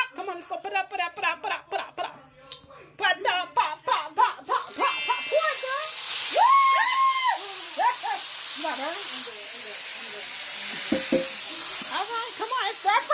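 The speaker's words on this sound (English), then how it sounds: "Come on, it's stir fry." Chicken and broccoli stir fry hits a hot pan with a sudden loud hiss, then keeps sizzling steadily under lively talk and a child's giggling, with occasional clinks of stirring.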